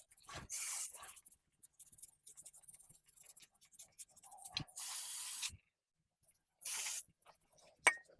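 Brake cleaner sprayed onto a vehicle's axle seal area comes in three sharp aerosol hissing bursts, close and loud, separated by quieter scrubbing and scratching of a small brush.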